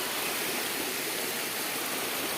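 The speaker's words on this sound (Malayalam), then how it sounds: "ഇതാണ് വെള്ളച്ചാട്ടം." A river waterfall pours in an unbroken rushing roar, a dense steady wash of water heard close with no talking.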